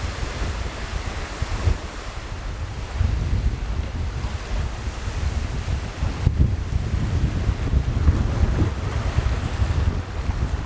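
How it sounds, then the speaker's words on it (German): Wind blows strongly by the water on a small peninsula in northern Sweden, buffeting the microphone in a steady roar over a low wash of waves, with no voices. "Ein bisschen windig ist es, aber das soll heute Abend weniger werden"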